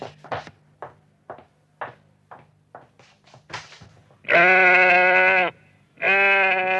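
A sacrificial sheep bleats in a Turkish comedy radio play: two loud, drawn-out bleats close up, following a series of sharp knocks and thumps, with no talking.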